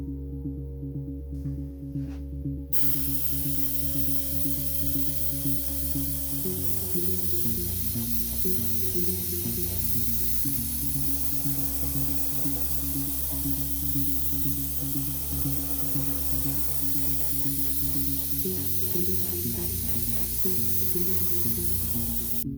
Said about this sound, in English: the next coat I'm going to apply is Vallejo Model Air Pale Blue Grey